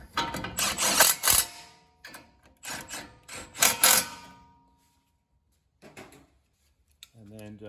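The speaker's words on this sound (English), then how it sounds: "Get both bolts started." Two bolts being wound in with a ratchet, giving bursts of rapid metallic clicking close to the ear, several short runs separated by pauses, ending with quieter taps.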